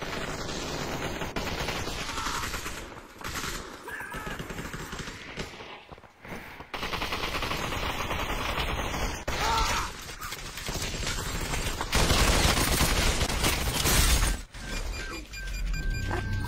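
Dense, continuous gunfire in the VR shooter Population: One on a sandbox map, with rapid bursts and impacts that stay loud nearly throughout and break off briefly a few times.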